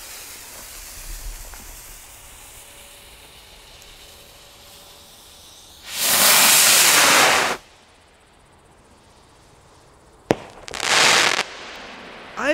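A rocket firework launches and bursts outdoors: after quiet ambience, a loud rushing hiss lasts about a second and a half, then a sharp crack is followed by a second shorter roaring burst.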